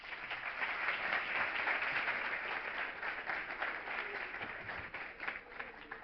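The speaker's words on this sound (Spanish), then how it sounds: "Un fuerte aplauso para él" Audience applause at a talk in Valencia, a steady dense wash of clapping from a crowd that stays even throughout and thins slightly at the end.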